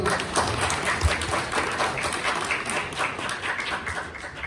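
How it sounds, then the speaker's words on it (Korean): Audience at an infectious disease research symposium clapping to welcome the session chair from the Korea Research Institute of Chemical Technology, steady moderately close applause with a few distinct claps standing out. "박수로 환영해 주십시오"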